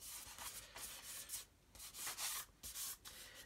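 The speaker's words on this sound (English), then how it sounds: "sanding down a huge mound over the seam" Mr. Surfacer primer is sanded over a seam on a plastic model kit: quiet, rhythmic back-and-forth abrasive strokes, close up, with no talking.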